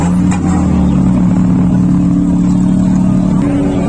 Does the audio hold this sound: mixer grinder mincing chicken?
no